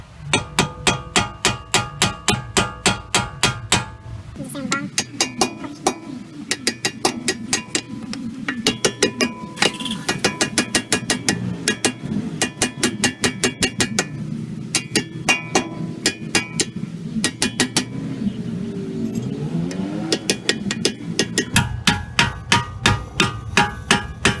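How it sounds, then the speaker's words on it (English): Sharp metallic hammer taps on an Acura RSX brake caliper ring out repeatedly in steady bursts, close and loud, with brief pauses and some scraping between series of strikes. "I got a hammer. We're just gonna tap."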